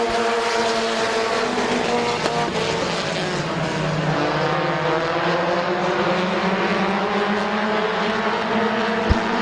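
Race cars roaring at Midvale Speedway just after the green flag, a loud, continuous engine drone with layered harmonic tones shifting in pitch as the field runs close by, no voices heard.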